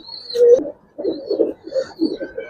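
Giribaz pigeons at a pigeon farm coo in a series of soft, throaty bursts, close and clear, with a high thin chirp from another bird in the background.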